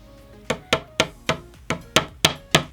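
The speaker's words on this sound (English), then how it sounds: "They said to just hammer down the pin where the dotted holes are" A hammer drives a pin into dotted holes on a DIY craft piece, eight sharp separate strikes in a loose, uneven rhythm, close and clear with quiet pauses between them.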